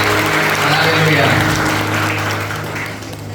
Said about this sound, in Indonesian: Mari kita berikan tepuk tangan sorak-sorai untuk Tuhan kita Yesus Kristus